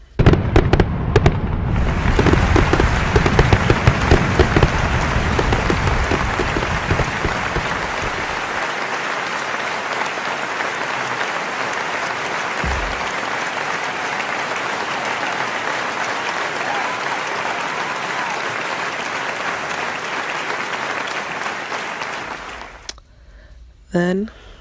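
Loud, sustained audience applause fills a room for about twenty seconds at a tribute event, beginning over a brief spoken moment and continuing steadily before fading out near the end.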